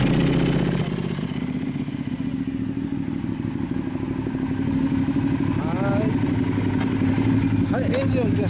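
A motorcycle fitted with an aftermarket muffler runs steadily, its low, loud exhaust drone filling the clip with a few faint clatters and brief voices near the end.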